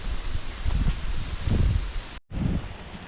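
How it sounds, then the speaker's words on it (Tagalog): Wind buffets eggplant plants in a garden, their leaves rustling in broad gusty swells over a steady breeze, with a brief dropout near the end before the rustling resumes. "Binabayo masyado ng hangin."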